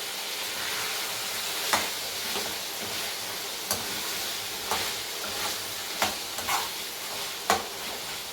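Chicken chops fry in oil in a pan, a steady bright sizzle with occasional sharp pops and stirring clatters, close and continuous with no talk.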